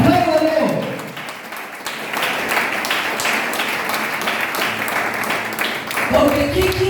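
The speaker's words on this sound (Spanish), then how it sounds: "Apláudalo." A church congregation claps in a sustained burst of applause between stretches of a preacher speaking at the start and end.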